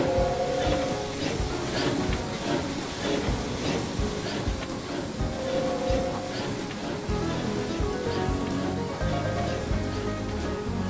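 A freight train of flatbeds and vans rumbles steadily along with continuous rolling clatter and hiss, loud and close throughout, no voices.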